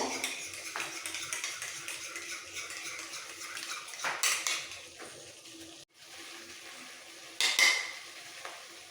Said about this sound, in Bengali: দু চামচ টক দই একটু ফেটিয়ে নেব